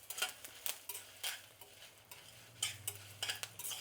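Curry leaves and chillies fry in oil in a pan, giving a soft sizzle. Repeated scraping clinks from a spoon stirring come in uneven bursts, quiet and close, with no talking.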